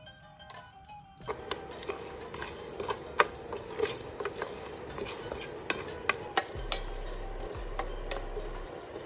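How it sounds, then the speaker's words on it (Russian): Whole spices (coriander, black pepper, cumin and a little fennel) being stirred and toasted in a pan over medium heat, with soft scraping and faint crackling plus scattered light clinks of a utensil against the pan. "Обжариваем на среднем огне до усиления аромата и специй."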